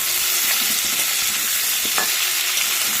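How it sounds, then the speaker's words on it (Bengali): Onions and crab pieces frying together in a pan for a crab curry hiss and crackle loudly and continuously up close, with light stirring scrapes breaking through now and then. "দেখো, এবার এর সাথেই এগুলো একটু ভাজা ভাজা করে নেব।"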